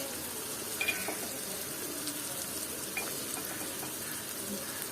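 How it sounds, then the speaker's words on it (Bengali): Spice masala for a Bengali fish curry frying in oil in a pan: a steady, low sizzle and crackle runs throughout, with faint scraping stirs now and then, close and quiet. "মশলাটা ভালো মতো আমি কষিয়ে নেব"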